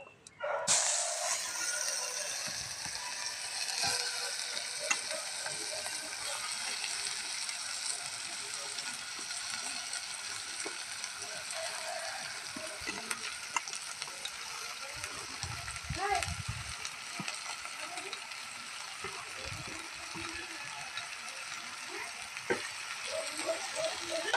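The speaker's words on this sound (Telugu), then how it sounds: "ఉల్లిపాయ ముక్కలు, పచ్చిమిర్చి అయితే వేస్తున్నాం" Onion pieces and green chillies fry in a pan with a steady, close sizzle that carries throughout, while occasional clatter and background voices sit beneath it.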